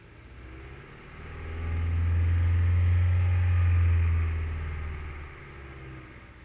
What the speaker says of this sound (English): There's a little bit of pulsation. It's in here at a lower idle. It's shaky.